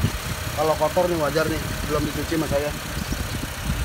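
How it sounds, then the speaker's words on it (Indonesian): A used car's engine idles with a low, steady hum beneath someone talking throughout, the engine sound staying in the background. "Mesinnya masih halus, tekanan pun masih enak. Mesinnya masih langsam ya."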